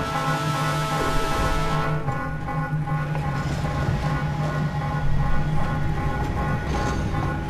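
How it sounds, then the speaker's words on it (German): In the video game Red Ocean, a train rumbles steadily with a continuous, loud, droning hum of engine and wheels and no clear pauses. "So, der Zug fährt schon nicht mehr auf ein Gleis."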